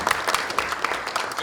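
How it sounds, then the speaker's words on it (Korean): A youth policy forum audience claps briefly, a short burst of crisp, fairly close applause from a modest crowd lasting under two seconds. "박수 주시죠."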